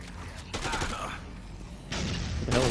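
Gunfire bursts from the Dead Rising 2 video game, two dense volleys of rapid shots separated by a short lull, with game voices briefly audible near the end.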